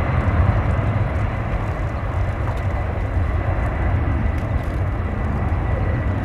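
A Boeing 767 heavy jet at San Francisco airport gives a loud, continuous, broad engine roar from a moderate distance, steady throughout with no voices.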